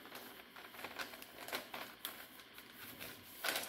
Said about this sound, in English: So I'll just fold it again.